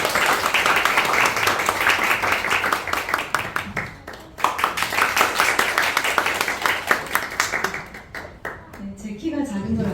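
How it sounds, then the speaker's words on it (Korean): A church congregation clapping at a 20th anniversary thanksgiving service, with dense, rapid applause that swells and fades over several seconds, mixed with voices talking, before dying down at the end. "박수."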